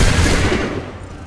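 A musket volley in Assassin's Creed III at the Battle of Lexington: a loud, close burst of gunfire from many barrels at once, followed by a long rolling decay.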